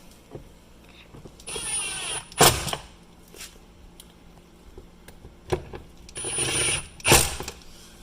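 Ratcheting with a 7mm socket loosens door panel bolts on a 2019 Ford F-150, giving two bursts of rapid clicking each followed by a sharp louder clack, close and clear with no talking.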